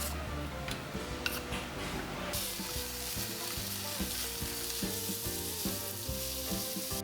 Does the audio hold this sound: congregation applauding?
no